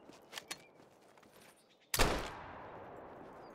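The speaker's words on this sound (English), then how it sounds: "I wasted so many shots trying to get that fox" A single sharp rifle shot rings out while hunting a fox in the video game Call of the Wild, following a few faint footsteps and small knocks, then a long fading echo tail.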